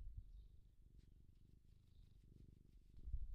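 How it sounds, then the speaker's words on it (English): A cat purrs softly and steadily in a quiet room, a faint, low rhythmic rumble in slow repeating cycles, alone without talk. "She's purring, but I don't know if the mic can pick it up or not."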